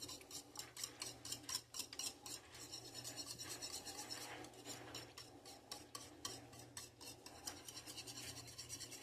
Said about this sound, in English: we're just going to mix all that together